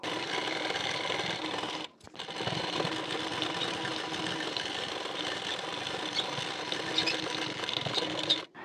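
Close and steady, a sewing machine stitches the fitting seam of a blouse with a continuous rapid mechanical whir, breaking off briefly once near the start, then resuming and running until it halts.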